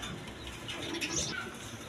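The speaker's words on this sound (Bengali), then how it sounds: "এগুলো খামারি কবুতর, খামার থেকে নেওয়া" Farm-raised Oriental satin pigeons, a breeding pair, give soft low cooing with a brief flurry of flapping wings near the middle, all at a modest, close level.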